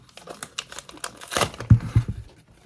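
A small surprise box package is torn open quickly, giving a brief burst of crinkling and ripping paper or plastic followed by a few soft handling thumps, close and without talk.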